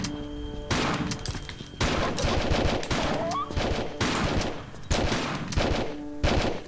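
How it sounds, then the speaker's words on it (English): Shotgun fire in a Tomb Raider Level Editor game, about six loud separate blasts in an irregular rhythm, each with a short decaying tail. "So I am going for the shotgun"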